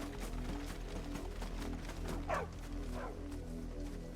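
A dog in a Final Fantasy game gives a couple of short barks and yips partway through, over a steady background of game music and ambience.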